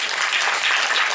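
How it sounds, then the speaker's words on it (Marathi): An audience bursts into steady, dense applause at a public health talk, the clapping loud and even throughout this short moment with no voices over it. "टाळ्या वाजवा"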